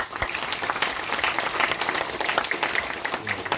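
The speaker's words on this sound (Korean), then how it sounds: "이 약속을 잘 지킬 수 있도록 격려의 박수 크게" Wedding guests at a church ceremony break into sustained, lively applause after the groom's vows, with dense clapping from a full room continuing throughout.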